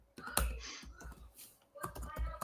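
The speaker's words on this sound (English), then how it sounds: "Oh, I'm typing sorry." Someone types on a computer keyboard, producing a quick, uneven patter of soft key clicks up close, faint and with short pauses between bursts.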